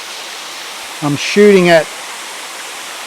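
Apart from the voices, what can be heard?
waterfall with water running down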